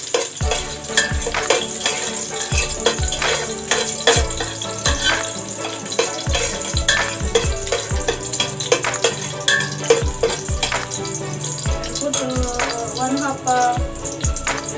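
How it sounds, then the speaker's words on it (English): Garlic sautéing in a pan for Egyptian-style macaroni, a steady close sizzle with frequent stirring scrapes and clinks of a utensil against the pan, with soft background music throughout. "saute. Don't make it brown so much, the garlic"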